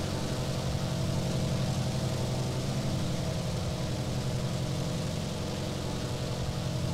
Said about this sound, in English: Immediately throttle up.